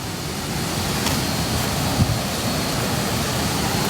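A waterfall rushes in a steady, dense roar that fills the whole clip, loud and unbroken, with no voices over it.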